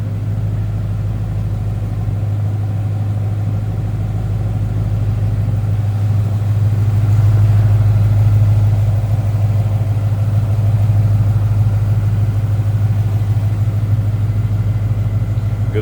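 A 2012 Ford Mustang Boss 302 V8 idles steadily and smoothly for the whole stretch, a loud, constant low rumble close by, with no voices.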